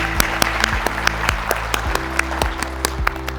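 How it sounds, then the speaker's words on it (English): Applause at a company kick-off event in Kolkata, steady clapping from an audience with a musical backing of sustained tones and rhythmic beats running underneath. "I want to give you all the big clap and the appreciation"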